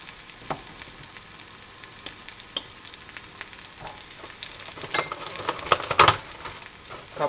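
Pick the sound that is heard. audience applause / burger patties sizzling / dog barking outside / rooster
burger patties sizzling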